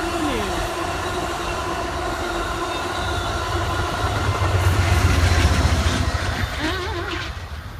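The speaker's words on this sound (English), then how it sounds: "It's a little bitty train." A short small train rolls past steadily, its rumble and clickety-clack on the rails building to a peak midway and fading slightly, with faint wheel squeal and a few distant voices.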